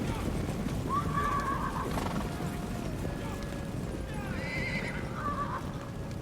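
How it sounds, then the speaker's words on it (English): Two distant horse whinnies ring out over a constant rumbling bed of noise, like a crowd of hooves and battle din, in the video game Rise of the Warlords. "There goes Huang Long and all of his horses."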